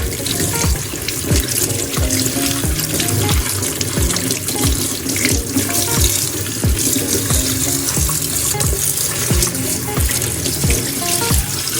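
Cold tap water runs hard into a sink, a loud continuous splashing rush close by with a rhythmic pattering throughout.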